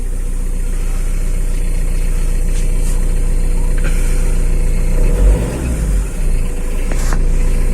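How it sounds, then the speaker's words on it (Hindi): A Tata Safari Dicor diesel engine idles with a steady, loud low rumble and clatter, a brief dip and swell in the drone midway. "Now I'll show you the engine noise of the vehicle."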